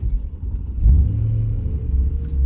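A BMW M3 exhaust rumbles at idle, then a short blip of revs deepens the low growl before it settles back to a steady burble.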